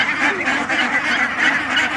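Many ducks quack constantly on a commercial duck farm in Nandigram, Bogura, a dense nearby chorus of overlapping nasal calls with a steady, pulsing rhythm and no voices.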